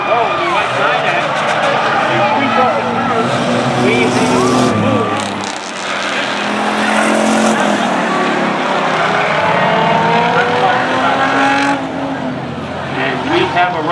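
Race cars roar around the Waterford Speedbowl oval during a short-track event, engines whining and rising in pitch as the pack passes near and loud, while an announcer talks over the racing.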